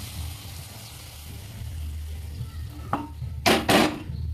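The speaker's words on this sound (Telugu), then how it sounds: "తాలింపుని మనం దీంట్లో యాడ్ చేసుకోవాలి." Hot tempering is poured into cabbage dal and stirred. Quiet low kitchen rumble gives way to a sudden sharp sizzle, then two louder hissing bursts near the end.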